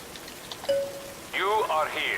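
Rain ambience in the video game Singularity, a soft steady patter beneath a brief tone and a burst of warbling, chirpy electronic sound near the end.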